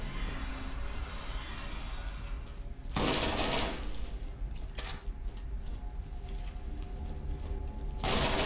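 Rapid automatic fire from Vladoff guns in Borderlands, a steady dense rattle running through the whole stretch with louder bursts around the third, fifth and eighth seconds; no voices.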